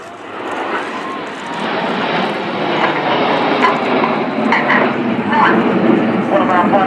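Red Arrows jets pull up into the Typhoon Loop at an airshow, their engines building into a loud, sustained roar with an airshow commentator speaking over it.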